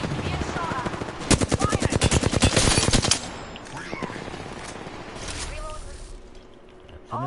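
Rapid automatic gunfire from the Apex Legends video game, a dense burst of loud repeated shots lasting about two seconds, with quieter game noise and voices around it.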